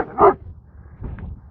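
A dog gives two short barks close by, the first louder and sharper, separated by a brief pause.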